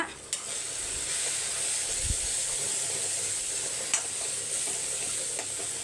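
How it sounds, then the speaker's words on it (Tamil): Half a spoon of plain chili powder is stirred briefly into a sizzling pan, giving a steady close frying hiss with faint scraping stir strokes and no talking. "ஒரு அரை ஸ்பூன் மட்டும் வெறும் மிளகாத்தூள் போட்டு ஒரு ரெண்டு செகண்ட் மிக்ஸ் பண்ணிக்கோங்க"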